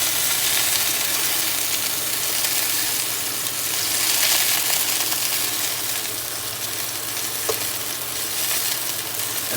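Food frying in a hot pan after being flipped with a fork gives a loud, steady, close sizzle throughout, a dense crackling hiss with no pauses and no talking.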